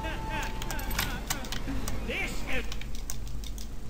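Sharp, brief computer mouse clicks tap out in a loose cluster, mixed in with video game sound effects and a voice talking over them.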